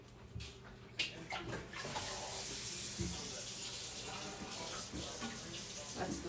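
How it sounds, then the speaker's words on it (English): Olive oil glugs and splashes as it pours from a large container into another, a close, uneven gurgling stream with irregular bumps and clunks. "It just pours out so much faster when you give it that air at the top."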